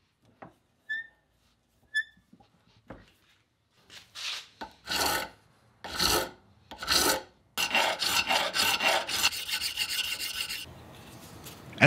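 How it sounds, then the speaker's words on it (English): A hand file rasps across an aluminum bronze knife made from copper wire: a few sparse scrapes, then long, loud, separate strokes, building into quicker, continuous back-and-forth filing near the end. "I followed that up by using a large disc sander and some hand files."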